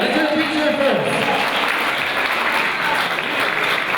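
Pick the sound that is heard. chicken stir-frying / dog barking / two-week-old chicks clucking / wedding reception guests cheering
wedding reception guests cheering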